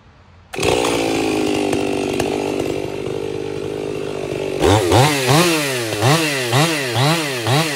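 A chainsaw with a muffler mod cuts into red oak, starting with a sharp, loud roar at full revs, then rising and falling in steady revving surges as it bites through the wood.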